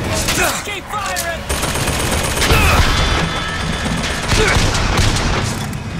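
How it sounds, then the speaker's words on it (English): Loud, rapid bursts of gunfire and booming shots erupt close by in the Bioshock Infinite video game, with a voice occasionally heard over the shooting. "Why is that thing shooting at me that violently?"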